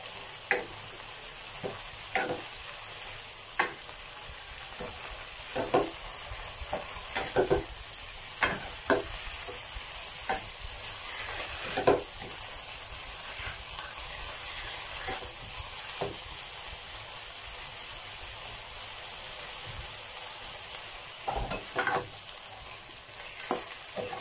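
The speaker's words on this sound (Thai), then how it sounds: "พอสุกแล้วผมก็จะใส่ต้นหอมแล้วก็พริกชี้ฟ้าแดงลงไปผัด" Pork and chicken stir-fried with spring onions and red chili in a pan cooked without oil, a continuous soft sizzle punctuated by irregular clicking scrapes of the spatula, close and steady, no talking.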